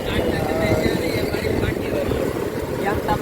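A scooter engine drones steadily and close by throughout the ride in India, its broadband motor noise loud and continuous with wind rush, while people talk over it.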